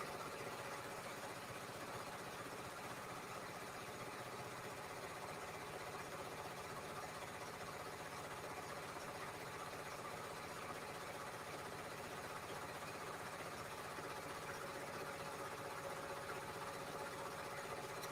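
An embroidery sewing machine runs without a break, giving a faint, even mechanical hum and rapid stitching rattle with no change in rhythm and no voices.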